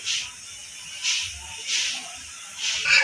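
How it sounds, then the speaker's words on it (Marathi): A chapati roasts on one side on a griddle, giving soft recurring hissing bursts that swell and fade about every half second to second, close and moderately quiet. "आता आपण एका बाजूने चपाती भाजून घेऊया"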